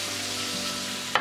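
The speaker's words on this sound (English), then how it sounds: "now it is time to add the tomatoes" Tomatoes go into a pan of sizzling tofu scramble, a steady close hiss of frying that ends in a short sharp clatter as they land.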